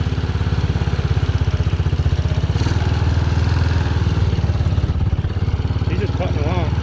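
Engine of a Chinese 250cc ATV idling steadily with a fast, even putter, running at a high idle; it stays close and continuous while a person talks over it.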